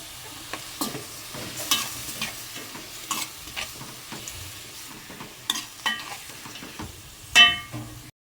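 Chopped onions sauté in a pan under a low, steady sizzle, with repeated close scrapes and clinks from a spoon stirring them. One louder knock comes near the end, and no one speaks.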